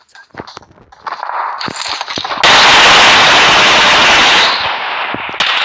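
Scattered sharp gunshots in PUBG Mobile on the Livik map give way to a loud, sustained burst of rapid automatic gunfire that dominates before easing slightly at the end.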